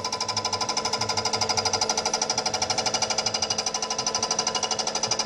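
A metal lathe taking a light cutting pass on an engine part, about 0.15 mm removed, producing a loud, rapid, evenly pulsing chatter with a ringing metallic whine, continuous and alone.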